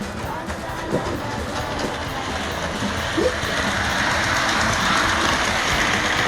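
HO scale Thomas & Friends model train climbing a hill on a layout, a steady rumbling motor and wheel drone that grows slightly louder, with no talk over it.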